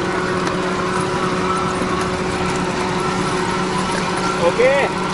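Steady low hum of a car engine running inside the vehicle during a driving lesson, constant throughout with a brief louder moment near the end.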